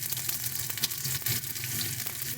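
Ginger paste frying in hot oil, with a steady close sizzle and crackle running throughout, alone and without talk.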